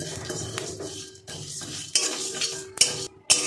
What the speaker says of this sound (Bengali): গোটা ধনে, গোটা জিরে সব একসঙ্গে আমি মিডিয়াম আঁচে একটু ভেজে নেব